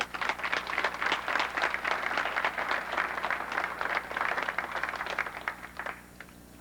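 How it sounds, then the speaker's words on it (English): Sustained crowd applause at a 2001 Universal Studios and Madame Tussauds press event: dense, steady clapping from many hands for several seconds, tapering off at the end. "Please join me in applauding their efforts"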